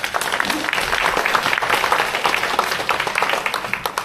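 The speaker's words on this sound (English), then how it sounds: "So let's give each of us a round of applause for each other." A crowd applauds steadily at a volunteer appreciation event, dense clapping filling the room at a constant level from start to finish.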